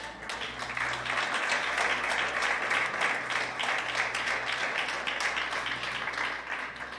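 Sustained clapping from a church congregation in praise of Jesus during a sermon, starting softly, then swelling into a steady, even wash of applause that carries on for several seconds.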